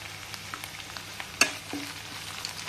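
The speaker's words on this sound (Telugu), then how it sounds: "వాసన పోయే వరకు పచ్చి వాసన పోయే వరకు వేయించుకుందాం" Ginger garlic paste with curry leaves sizzles in hot oil in a pan, a quiet steady fry broken by a few sharp crackles and the scrape of stirring.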